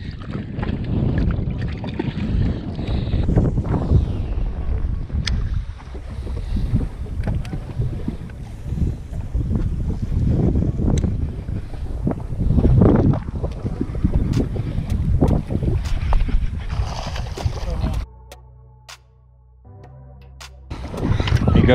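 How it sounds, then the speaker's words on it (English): Strong wind buffets the microphone on a lake during a bass fishing trip, roaring steadily with gusts for most of the clip before briefly dropping off near the end and returning. "Bit of a windy morning here down at Ananda"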